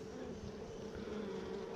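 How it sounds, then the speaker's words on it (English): Honey bees inside a hive chew on styrofoam, heard as a faint, steady insect buzz and hum with a soft gnawing texture throughout, close up and with no voices. "And you can hear the bees chewing on that"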